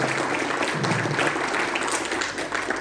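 An audience at an eco-farming event claps in a steady, fairly soft wash of applause that holds without a break throughout.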